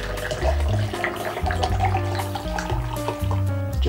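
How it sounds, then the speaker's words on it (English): Water poured from a container into a shaker cup holding scooped Gamer Supps energy drink powder, a steady close splashing and gurgling fill with shifting low bubbling tones and no talk. "And then we pour our water into it"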